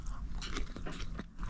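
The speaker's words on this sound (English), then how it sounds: "chicken katsu. Wow, it's got a nice crunch to it." Crunchy Japanese hospital chicken katsu is bitten and chewed up close, giving several crisp crunches in an uneven rhythm with no talking.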